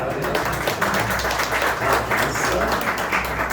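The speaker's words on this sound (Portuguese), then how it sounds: "Salve de palmas para a nossa secretária." Applause for the church secretary at an Adventist congregation's inauguration service, a steady crowd of hands clapping throughout, fairly loud and even, with faint voices mixed underneath.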